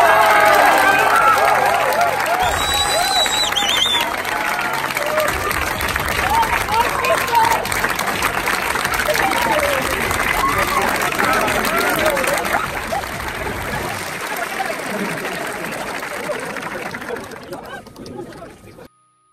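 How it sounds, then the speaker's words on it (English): A hackathon crowd bursts into loud applause and cheering for the first-prize winners, dense clapping with whoops sustained for several seconds before fading out near the end. "Everybody give them a roaring applause because the winner of today is Monkey Code!"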